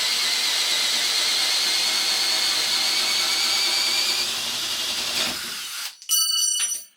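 Power drill boring with a 3/4 inch Bosch Daredevil spade bit on speed 1, a loud steady high-pitched whine that labours and drops off near the end, followed by a brief ratcheting rattle.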